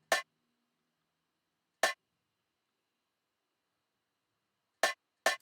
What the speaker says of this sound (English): Then I have this weird metal one shot in there as well.